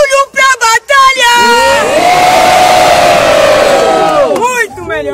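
A crowd at a rap battle bursts into loud sustained cheering and whooping after a few shouted calls from a host, close and dense, fading slightly at the end.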